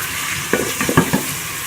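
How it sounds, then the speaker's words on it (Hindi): Onions frying in hot ghee, a steady close sizzle with a few quick stirring scrapes and clatters of a spoon in the pan over the short span. "जब हमारा घी गर्म होगा तो हम इसके अंदर प्याज डाल रहे हैं। प्याज डाल के इसको ब्राउन कर देंगे।"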